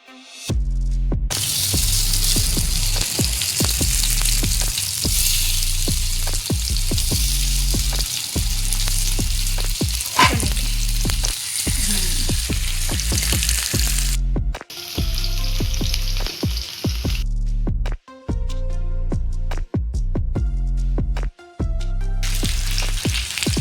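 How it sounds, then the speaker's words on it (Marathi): Fish fries in oil on a griddle pan, placed one by one, with a loud continuous sizzle broken by rhythmic clicks and brief pauses between bursts. "तव्यावर तेल टाकून आता एक एक मासा ठेवून याला मस्त खरपूस होईपर्यंत फ्राय करून घेऊया"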